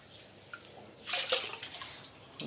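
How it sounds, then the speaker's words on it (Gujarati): Water scooped out of a water tank to fill a container, heard as a soft splash and slosh burst midway through, with faint dripping before and after, close by and without talk. "આ ટાંકો પાણીનો છે એમાંથી ભરી લેવાના છે"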